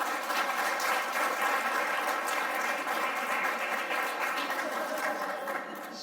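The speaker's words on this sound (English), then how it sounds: "I think we need to give a round of applause for that." Round of applause from diners at a global health awards dinner, a continuous even patter of many hands clapping at moderate level, easing slightly near the end.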